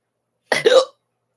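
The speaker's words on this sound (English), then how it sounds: "Oh no, it's the hiccups." Hiccups from a man with a bad cough, caught while storm chasing a supercell under a tornado warning: a short burst of two quick, close, voiced hiccup-like sounds, then silence.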